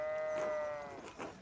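A sheep in a video game gives one clear, wavering bleat lasting about a second, fairly close, followed by quieter background game noise.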